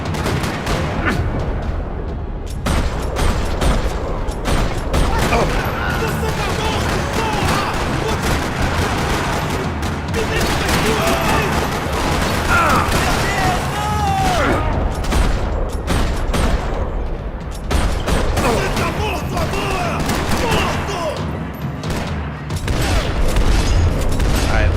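Dense, continuous gunfire from the Max Payne video game, with overlapping shots, booms and rapid bursts that stay loud and near for the whole stretch.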